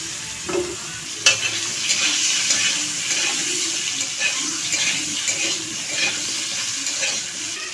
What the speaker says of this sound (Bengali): এই পটল আর আলু সবগুলো আমি কড়াইয়ের মধ্যে দিয়ে দেব।